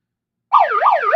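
A handheld siren noisemaker wails loud and close, starting abruptly and sweeping up and down in quick repeated cycles with no talking.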